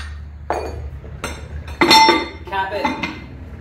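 Metal plates on an adjustable kettlebell clink and clatter as the nut is spun down and tightened, several sharp close-up metallic knocks and rattles separated by brief pauses.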